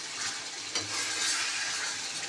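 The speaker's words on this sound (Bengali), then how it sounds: "একদম ভাজা ভাজাও হয়ে এসছে" Onion and poppy seed paste fries in oil in a wok, giving a steady soft sizzle with faint stirring scrapes against the metal, close and continuous with no voices.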